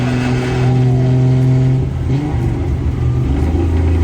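A modified Datsun 240Z engine revs close by, warmed up, its low steady drone rising and falling in pitch as the throttle is worked.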